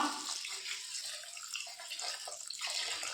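Hot water pours steadily over small dried anchovies in a bowl, a continuous splashing trickle heard up close with no talking.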